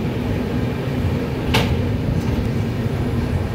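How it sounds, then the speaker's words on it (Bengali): Digha–Howrah Kandari Express superfast train rolls along at night, a loud, steady low rumble from inside the carriage with one sharp metallic clack partway through. "7:20 পারফেক্ট রাইট টাইমে ট্রেন ছেড়ে দিয়েছে আমাদের দীঘা সুপারফাস্ট দীঘা হাওড়া যা কান্ডারি এক্সপ্রেস"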